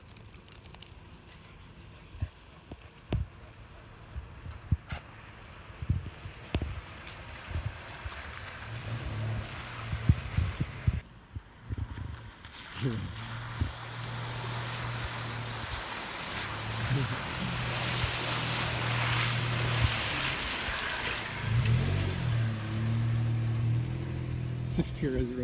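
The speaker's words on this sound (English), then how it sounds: "It's not every day you get to drive into a river." A vehicle, a Honda Pilot or Nissan Xterra, drives into a river with a rising rush of splashing water and a low engine drone building over time, while people talk over it.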